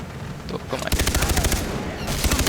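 Rapid bursts of automatic gunfire in the video game Far Cry 3, a sharp rattling volley that pauses briefly and then resumes, loud and close.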